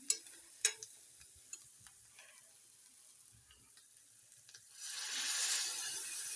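Spices such as turmeric, goda masala and chilli powder in hot oil for a Marathi-style phodni for a peas and cauliflower sabzi. Soft clinks and scrapes lead into a steady, close, hissing sizzle for the final second and a half, with no talking.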